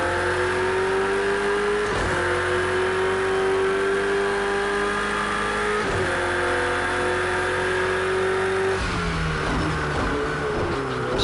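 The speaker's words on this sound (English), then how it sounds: "I just feel like the volume is really loud on my race car" A race car engine in a racing video game revs hard and continuously, its pitch climbing steadily with gear shifts roughly every four seconds, loud and unbroken throughout.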